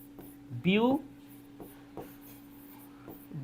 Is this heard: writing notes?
yes